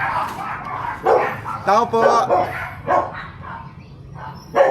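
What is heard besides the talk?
dog barking during anti-rabies vaccination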